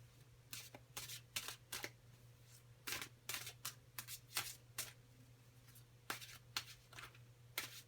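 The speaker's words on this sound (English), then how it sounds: "let's get shuffling here" Tarot cards are shuffled in quick, crisp riffles and bursts, close and quiet, with short pauses between rounds and a faint steady hum underneath.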